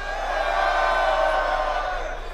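Live crowd at a rap battle in Switzerland, a steady roar of cheering and whooping that fills the room, loud and sustained with no break.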